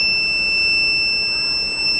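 An alert buzzer from an IoT railway track defect detection system sounds as a steady, continuous electronic tone of even loudness for the full two seconds, with no talk over it.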